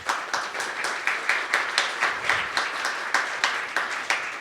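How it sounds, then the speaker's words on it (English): A conference audience claps for the Sylius team, with an even, rhythmic beat of many hands moderately close and loud, sustained throughout without pause. "Please, can you give them a round of applause?"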